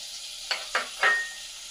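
Whole cumin seeds hit hot oil in three quick, sharp sizzling bursts, each crackle fading fast, close and moderately loud with no talk.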